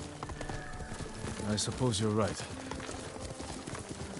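Horse hooves clip-clop at a steady walking rhythm during a ride in the samurai game Ghost of Tsushima, quiet and continuous beneath a short line of spoken dialogue.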